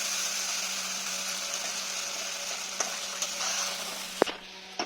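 Masala paste with cashews frying in a pan, a steady close sizzle with occasional scraping taps from stirring and a sharp knock near the end.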